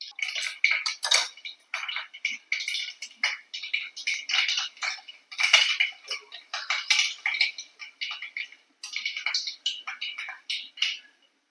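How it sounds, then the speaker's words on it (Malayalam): Mustard seeds splutter and pop in hot oil for an egg curry, a dense run of sharp crackles in irregular bursts, close and fairly loud, with brief pauses between flurries. "കുറച്ച് കടുക് ഇട്ട് കൊടുക്കുക."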